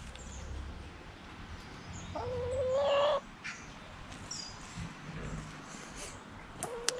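A hen outdoors sounds an alarm call, a sustained raised clucking cry lasting about a second over a faint outdoor background, with quieter scattered sounds before and after.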